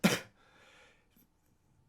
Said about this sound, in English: And she just kind of coughs.